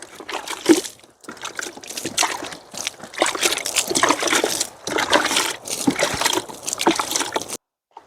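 Water is splashed and sprinkled over bare ground in a garden plot, arriving as uneven bursts of trickling and spattering with short pauses between throws, close by and without talk.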